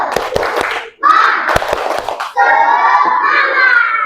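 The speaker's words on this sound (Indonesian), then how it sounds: "Tepuk semangat." Children at an Indonesian classroom session do a rhythmic spirit clap, sharp grouped hand claps in a patterned beat, alternating with the children's chanting voices, loud and close.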